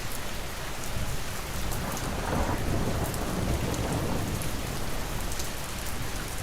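Heavy rain pours steadily and loudly through the whole stretch, with low rumbles of thunder rolling beneath the downpour and no voices.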